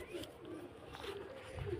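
Soft pigeon cooing, low and murmuring, close by amid a faint background hum; a few gentle coos roll on over under two seconds.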